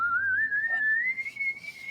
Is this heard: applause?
no